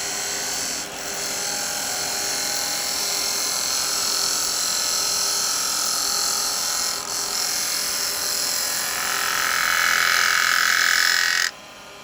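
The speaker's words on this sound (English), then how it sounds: "I'm going to use a small spindle gouge. And I'm going to take a cut across." A small spindle gouge cutting across wet wood on a lathe while turning a miniature cowboy hat, giving a steady, close, high hissing whir that carries on for about eleven seconds and then stops abruptly, with no speech.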